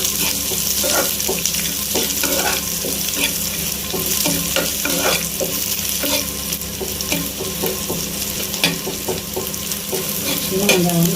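Curry leaves and small shallots sizzling in hot oil in a pan, a loud steady fry close up with occasional stirring clinks, no talking.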